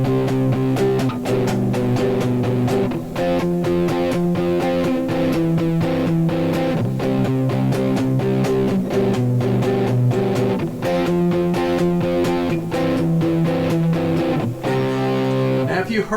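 Electric guitar strumming a short rock chord progression in C built on sus4 chords, with a slightly driven tone, steady and continuous, alone.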